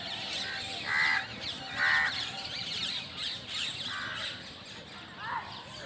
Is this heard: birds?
yes